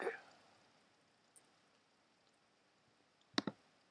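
A computer mouse gives one sharp, close click near the end of a quiet stretch, with a faint tap earlier and a short voice at the start.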